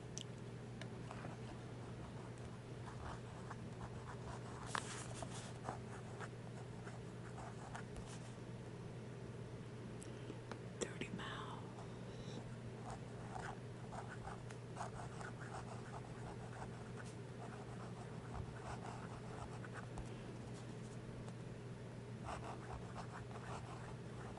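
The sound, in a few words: pen writing in a journal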